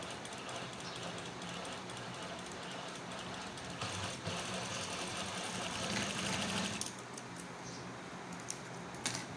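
A sewing machine stitches just below the piping on a ladies' kameez neckline with a steady, close mechanical rattle and whir that runs continuously, ending in a few clicks.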